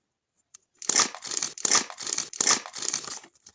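A pink paper surprise packet is torn open, the paper crinkling and ripping in five or six close, loud bursts after a moment of near silence.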